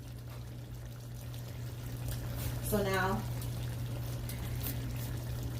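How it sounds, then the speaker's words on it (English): A small splash of leftover water is poured into a pot of Jamaican brown stew chicken, a brief gurgling pour lasting about a second over a steady low hum, with a voice speaking briefly before it. "our little tiny bit of water that we have left in here, now we can go ahead and add that"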